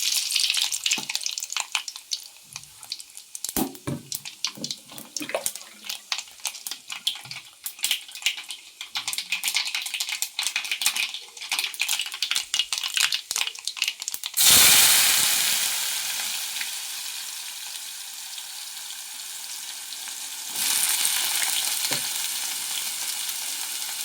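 Cumin and mustard seeds fry in hot oil for a bitter gourd fry, a dense crackling sizzle with sharp pops through the first half, then a smoother, louder hiss that eases off and flares up again near the end, with no voices.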